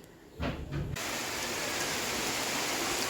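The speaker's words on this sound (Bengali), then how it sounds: "বৃষ্টি নেমেছে ভালোই জোরে বৃষ্টি পড়ছে" Dense steady hiss of heavy rain during a storm, starting abruptly after a few muffled thumps and continuing unbroken, loud and close.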